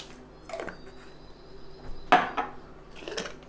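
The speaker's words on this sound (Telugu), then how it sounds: "ఒక స్పూన్ ధనియాలు వేస్తున్నాను" Coriander seeds are tipped into a dry, oil-free pan for roasting while cooking a Telangana-style chicken fry. A few separate rattling clatters come up close, the sharpest in the middle, with quiet gaps between them.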